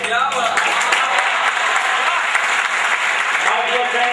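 Loud, dense applause from a large audience fills the space continuously, a thick rush of clapping with a voice faintly audible beneath it.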